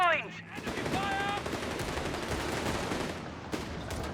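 Sustained machine-gun and rifle fire rattles from a battle in the strategy game Company of Heroes 3, dense and steady, with a brief tonal game effect near the start.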